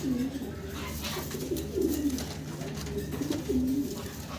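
Red Indigo pigeons coo nearby in soft, repeated low rolling phrases, a few calls spread across the moment over a busy background murmur.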